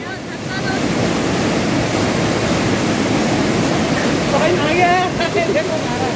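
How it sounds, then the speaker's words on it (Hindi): Shikhar Fall, a hidden waterfall near Dehradun, produces a loud, steady rushing roar of falling water close by, with faint voices surfacing near the end. "सो ये शिखर फॉल इतना ही प्यारा लगता हुआ।"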